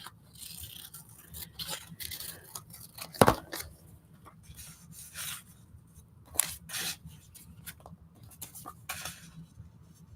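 Paper being snipped with scissors for a collage, a series of short crisp cuts and rustles spread irregularly through the quiet, with one sharper snip standing out, close by and without speech.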